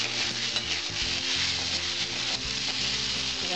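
Mustard-flower ghonto with a spoon of ghee is stirred in a frying pan, giving a continuous close sizzle and frying hiss with scraping stirs throughout.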